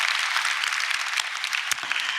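A church congregation claps during a Sunday worship service, a dense, even burst of applause from many hands that fills the room for a couple of seconds.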